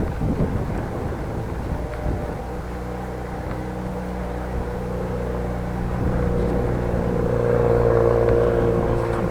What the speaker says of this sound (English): BMW with a faulty exhaust, at least that's how it sounds.